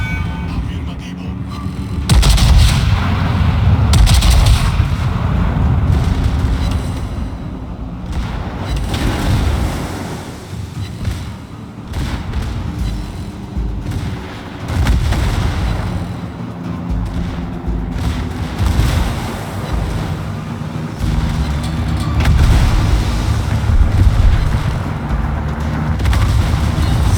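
Naval artillery in World of Warships, a battleship match: repeated deep booming gun salvos and rumbling explosions over a constant sea-like wash, with a voice speaking between the blasts.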